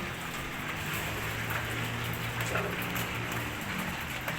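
Hail falls in Baguio, a continuous hiss of small icy impacts that stays even and unbroken for a few seconds with no voices over it.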